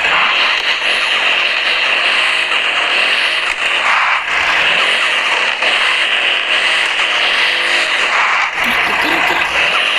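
Race car engine in a video game, stolen from a mafia boss, roaring and revving loudly and steadily without a break, with excited talk over the top.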